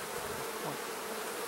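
A dense swarm of honeybees hums steadily around an open hive, a close, continuous buzzing drone with no voices.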